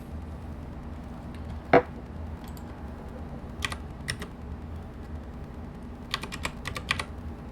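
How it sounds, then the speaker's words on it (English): A computer keyboard gives sparse, scattered keystrokes during a recorded math lecture: one sharper tap, then a few isolated clicks and a quick cluster of taps near the end, over a steady electrical hum and with no talk. "Just typing it in, hitting submit."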